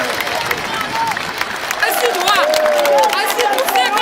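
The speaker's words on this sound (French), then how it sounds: "Nous continuons à applaudir pour nous dire merci avec tout cœur" A large audience at a Haitian New Year's Day public ceremony applauds steadily and loudly, with crowd noise and scattered voices mixed through the sustained clapping.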